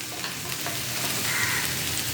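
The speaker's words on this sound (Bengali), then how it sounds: "দিয়ে আস্তে আস্তে নেড়ে আর একটু 1 চামচ ঘি দিয়ে দেবো" Fried rice with garam masala and ghee sizzles steadily in a pan while being gently stirred, a close, even frying hiss with faint scraping and no talking.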